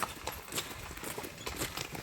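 Two draft mares harnessed as a pair clip-clop faintly at a steady walking rhythm, somewhat distant, over background noise.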